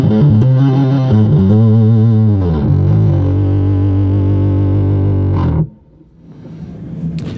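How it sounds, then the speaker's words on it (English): A bass guitar played through an Orange OB1 bass amp head with the distortion knob turned up: loud, gritty sustained notes with a sliding, wavering phrase that cut off abruptly, leaving a low hum and hiss. "Now, I can get really distorted with this distortion knob here."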